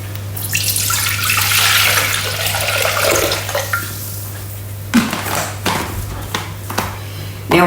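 Water pours loudly into a Thermomix bowl for a few seconds, then stops, followed by a few knocks and clunks over a steady low appliance hum.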